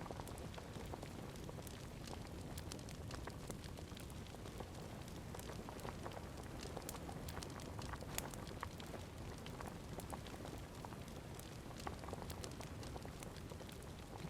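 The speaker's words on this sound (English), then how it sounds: "it's the fire pit making that noise" A fire pit crackles faintly in a video game, with quiet, continuous popping and hissing spread evenly throughout and nothing else rising above it.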